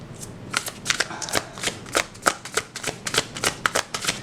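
Tarot cards are shuffled by hand close up in a quick series of crisp riffling bursts and soft slaps, about a dozen irregular flurries with no talk.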